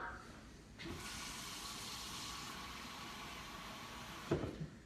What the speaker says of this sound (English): There's some water, probably about a cup, I don't know.